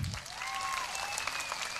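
An audience at a political rally in a village panchayat meeting in Tamil Nadu claps steadily, a faint, continuous patter of many hands with a whistle-like tone drifting through.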